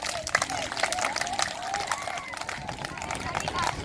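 Students at a yoga day practice clap in unison, sharp rhythmic claps repeating roughly every half second amid crowd babble and an instructor's voice.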